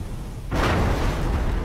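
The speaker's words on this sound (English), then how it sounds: "a fireball erupted from the furnace, engulfing the area and igniting airborne dust in a second, larger explosion" A furnace fireball touches off a dust explosion inside an industrial building: a sudden loud broadband blast begins after about half a second of low rumble, then a sustained roaring wash of noise holds until the end.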